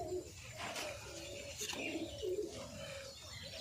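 Pigeons of breeds such as Giribaj and Madras coo nearby, soft low repeated cooing calls layered over a steady background murmur with occasional chirps.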